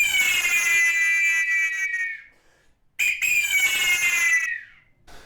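An ancestral Mexican multiple eagle whistle with chambers of different sizes gives two loud, shrill, warbling blasts imitating an eagle's cry, each about two seconds long and separated by a brief pause, with no voices.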